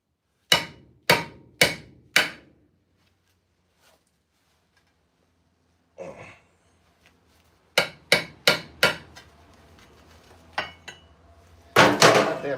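A bigger, heavier hammer pounds a wedge in a burst of four sharp blows, then after a quiet gap a single knock, and later a fast cluster of loud ringing strikes with clattering between, close up and without speech.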